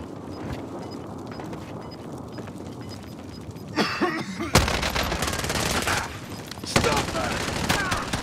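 Gunfire in Call of Duty Warzone, with bursts of automatic fire and sharp shots erupting midway and again near the end, loud and close over busy battle ambience, with people talking over it.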